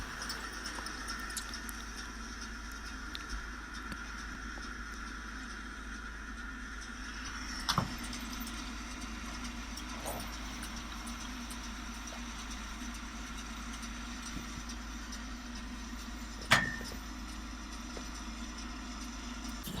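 A tractor pulling a round hay baler drones steadily at a low idle, with a faint mechanical rumble and a couple of brief clanks or knocks along the way.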